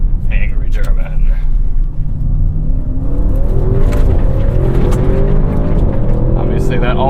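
A 2021 Audi RS6 Avant engine revving hard as the all-wheel-drive wagon accelerates, a loud rising roar heard from inside the cabin, with people talking over it.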